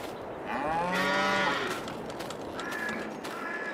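A single cow in Farming Simulator 22 gives one long, close moo, then fainter lowing follows, with no talk over it.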